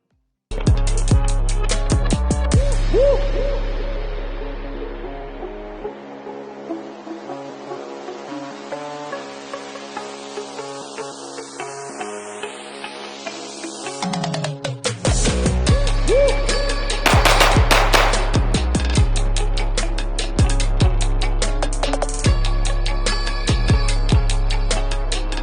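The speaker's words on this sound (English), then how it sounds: "that was me running a P226 Legion SAO" Rapid shots from a Sig Sauer P226 Legion SAO pistol ring out loud and close, in quick strings of sharp cracks with a short pause mid-string and then more fast bursts, with no talking.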